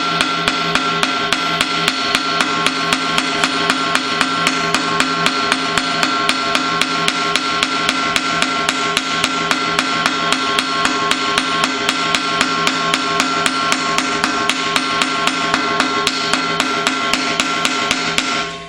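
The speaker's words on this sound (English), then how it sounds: "I just use a ball peen hammer like this" A ball peen hammer strikes the end of a steering gearbox shaft from a 1953-1962 Corvette, held on a sturdy vise pedestal, in a fast, relentless train of loud, close metallic blows.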